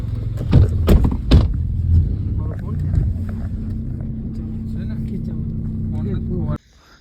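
A car whose bumper is badly damaged after a night accident is started with a few sharp clunks, then its engine settles into a steady low idle, close by, before cutting off abruptly, with voices talking over it.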